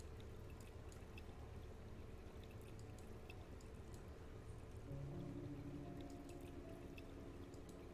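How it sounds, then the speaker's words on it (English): Water pours steadily as a pump clears a flooded basement in the video game Conway: Disappearance at Dahlia View. The stream is faint and continuous, with a low hum swelling partway through. "The pump is set to clear the basement of water."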